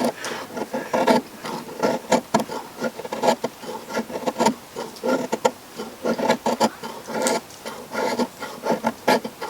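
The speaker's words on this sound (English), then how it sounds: "I'm trying to make curls of fat wood." A dull knife shaves curls from a stick of resin-rich fatwood, giving repeated short rasping scrapes in an irregular rhythm, close and fairly loud with no talking.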